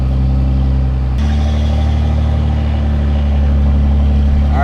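A Cummins diesel truck fitted with a 64mm Stealth drop-in turbo accelerates under throttle, its loud, close engine drone stepping up suddenly and holding a heavy, steady rumble with rising turbo whine near the end.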